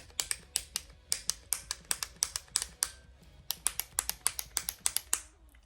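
A cream lipstick and blush stick twisted up with a rapid run of crisp, close clicks in quick rhythmic bursts, a short pause, then more clicking, alone without talk.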